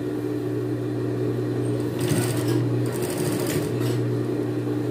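Sewing machine running a second seam on a cropped denim jacket sleeve with its original cuff: a steady motor hum with brief louder stitching surges in the middle, fairly close and with no talking.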